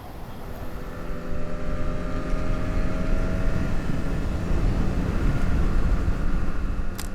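A motorbike engine idles steadily and close by at the start of a ride in Saraburi, Thailand, a continuous low rumble with faint harmonic drone lines throughout, no voices.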